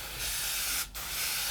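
Model paint sprays onto kitchen paper towel in a soft steady hiss, close up, with a brief gap in the middle before the spray resumes.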